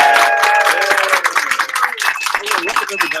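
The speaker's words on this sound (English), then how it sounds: "Applause!" A large live podcast audience at an aviation event claps and cheers loudly, a dense burst of hands mixed with whoops and crowd voices, energetic and close.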